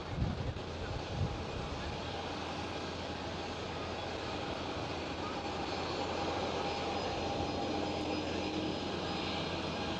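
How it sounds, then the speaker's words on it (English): A KLM Boeing 787 Dreamliner rotating on takeoff at Amsterdam Schiphol, a broad, distant engine roar holding steady and faint under wind noise. "KLM Dreamliner rotating."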